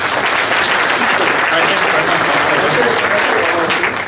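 A large audience applauding at a Fast Forward 2017 event: dense, loud, sustained clapping that fills the room evenly from start to finish, with voices mixed in.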